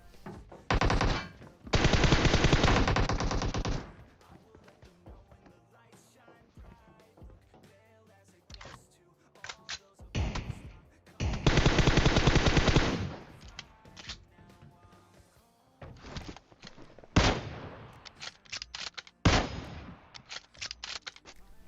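Automatic gunfire in the mobile battle-royale game PUBG Mobile, several loud sustained bursts of rapid shots separated by quieter gaps with scattered single shots and game sounds, no talking.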